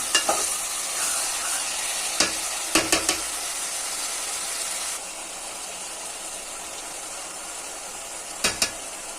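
Chicken pieces fry in a pan with a steady, close sizzle, marked by a few sharp clatters of stirring. The sizzle quiets midway through, and no one speaks.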